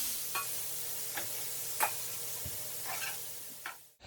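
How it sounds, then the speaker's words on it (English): Steady hiss of shrimp sizzling in a hot pot, with a few brief clinks and scrapes of utensils. "the sizzle from the pot was interfering with the sound"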